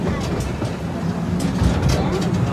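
An amusement park train ride at Hershey rumbles and rattles as it picks up speed, a continuous low rolling clatter close by with brief hissing rushes of wind.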